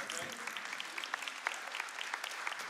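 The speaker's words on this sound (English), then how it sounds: "You can clap." A church congregation claps steadily, a dense patter of many hands at moderate distance in a large worship hall, with faint voices mixed in.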